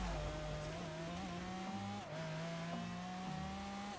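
A Pagani Zonda R race car engine in Forza Horizon 4 holds a steady, loud high-revving howl with small pitch shifts and brief dips as it shifts gears.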